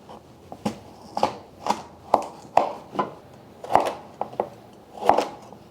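A knife chops a giant carrot into fairly large chunks on a cutting board for Chinese beef brisket stew, about a dozen crisp close thunks at an uneven, unhurried pace, with no talking.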